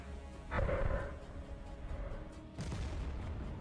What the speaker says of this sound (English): AFU artillery makes a shot.